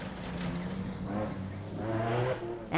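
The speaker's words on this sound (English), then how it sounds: "First in Class S, Loderbrain and Rian Hreiling in the Rubicon Racing Ford." A Ford rally race car in a Class S off-road race roars past, its engine note rising and building through the pass with a final loud surge, heard from the roadside without talk.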